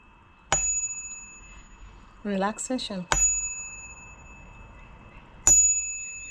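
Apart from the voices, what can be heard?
yoga bell ringing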